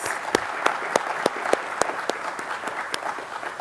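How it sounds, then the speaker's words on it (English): Audience applause at a school district State of the Schools address, a moderate crowd clapping steadily with a few sharp, distinct claps standing out near the front. "Let's give them a round of applause, please."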